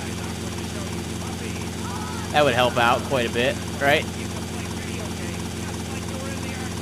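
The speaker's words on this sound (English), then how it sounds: "I should keep this helicopter about as long as I fucking can." Helicopter rotor and engine drone from Grand Theft Auto Vice City, a steady broadband hum running through the whole stretch while someone talks over it briefly in the middle.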